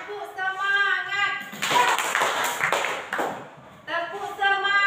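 A group gives a 'tepuk semangat' spirit clap, with bursts of rhythmic hand clapping between spoken chants, voices leading and following the claps.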